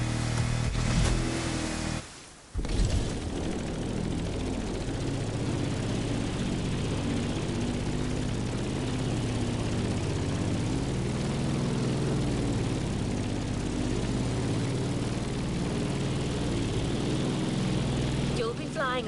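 A Grumman F8F Bearcat propeller fighter from The Crew Motorfest drones steadily with a loud piston engine, cutting out briefly around the second mark before the continuous roar resumes.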